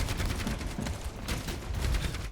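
Dense, continuous gunfire from enemy players shooting in the video game Overwatch, a steady loud barrage of rapid shots with no pauses throughout.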